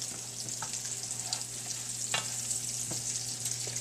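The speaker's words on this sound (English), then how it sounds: "Now, I'm going to add in these ham into the onions." Ham tossed in with onions sizzles in a pan, a continuous close crackling hiss with a few scraping stirs and no talking.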